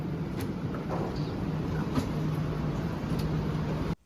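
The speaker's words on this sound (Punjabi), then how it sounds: "ਲੋ ਜੀ ਸਾਡੀ ਮੈਟਰੋ ਆ ਗਈ ਆ" A metro train in Canada hums and rumbles steadily with faint clicks and squeaks, ending abruptly; no talking.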